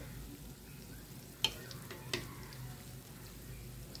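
Mawa gujiya frying in oil while being turned over, a soft steady sizzle with two sharp clinks of a utensil against the pan, quiet and close, no voices.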